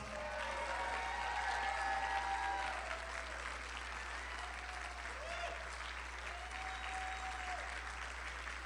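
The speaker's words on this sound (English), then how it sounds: "Let's give them a round of applause." A large political rally crowd claps steadily and continuously after a victorious Ohio Senate candidate calls for applause for his siblings, a dense, moderately distant wash of applause with faint cheers rising over it.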